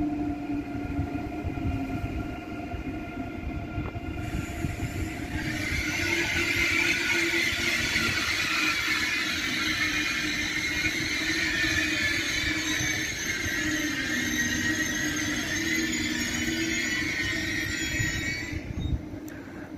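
An ICE high-speed train pulls out of Würzburg station, a loud steady rumble that builds into a broad rolling roar and rushing hiss as the cars pass close, then fades slightly near the end.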